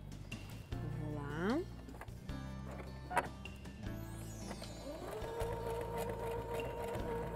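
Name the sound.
sewing machine stitching a toilet paper holder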